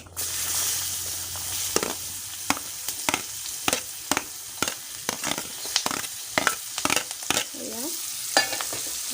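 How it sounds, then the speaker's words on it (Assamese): Onions fry in a pan with bay leaves, a steady sizzle broken by repeated scraping strokes of a spoon stirring, close and fairly quiet, no talking. "এইখিনি ৰংচুৱা হোৱাকৈ ভাজি ল'ম"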